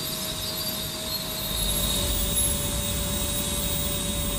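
SubSonex personal jet engine idling steadily while taxiing slightly uphill, a constant whine with a high tone and a broadband rumble that swells midway, with no voices.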